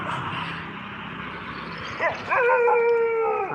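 Dogs howl at night during a pilgrimage walk in Tamil Nadu, with a faint murmur at first, then a loud, drawn-out, wavering howl from several dogs that rises and holds nearby.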